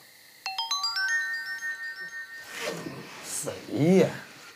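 A telephone ringtone plays a rising, bell-like melody at the start of a rural Chinese comedy scene, then fades as people start talking over it.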